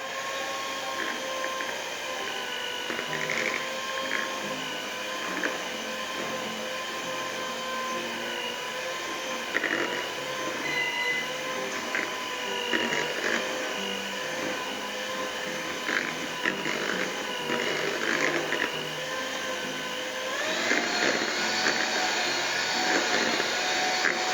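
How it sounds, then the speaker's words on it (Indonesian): An electric hand mixer drones steadily for about twenty-four seconds while beating choux pastry batter for choux au craquelin, its motor whine continuous and close, with slight shifts in pitch as the beaters move through the batter. "kocok lagi dengan mixer sampai rata"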